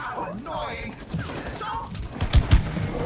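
Rapid gunfire from co-op video game It Takes Two aimed at a large beetle, a few loud thumping shots late among game sounds, following a stretch of speech.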